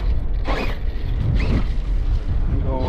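An Arrma Kraton 6S RC car is driven outdoors on dirt in wind. Its motor makes rough whirring and creaking bursts over heavy wind rumble, rising and falling a few times within a few seconds.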